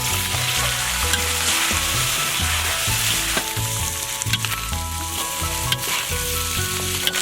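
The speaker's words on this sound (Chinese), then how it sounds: "倒入我们的红油辣子， 加入花椒面，倒入鸡爪。" Chicken feet are stir-fried with red chili oil and Sichuan pepper powder in an oiled wok, a loud continuous sizzle with rhythmic scraping and clattering stirs throughout, no speech.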